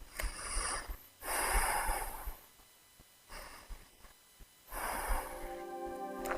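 Slow, audible breaths in and out during a downward dog hold in an energizing yoga flow, three or four long exhales close to the microphone with quiet gaps between.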